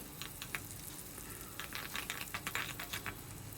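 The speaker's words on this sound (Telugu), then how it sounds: "సన్నగా కట్ చేసిన పచ్చిమిర్చి ఒకటి అండ్ సగం ఉల్లిగడ్డ వేసుకున్నానండి. ఇందులో ఇవి రెండు బాగా ఫ్రై చేయాలి." Thinly sliced green chilli and half an onion fry in a pan, giving a faint, steady sizzle with scattered soft crackles and pops that grow busier toward the end.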